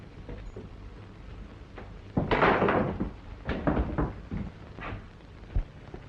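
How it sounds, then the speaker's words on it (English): A door being opened in an old Western film scene, with a burst of creaking and knocking clatter at mid-clip followed by several shorter bumps and thuds, fairly close over a steady low background hum. "Get that door open."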